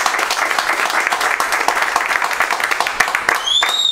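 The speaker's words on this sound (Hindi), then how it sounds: "एक बार जोरदार ताली बजाओ इनके लिए भैया।" Audience applause for the first-place winner of an Android CPU competition, sustained crowd clapping at a steady level, with a brief high squeal and a faint voice near the end.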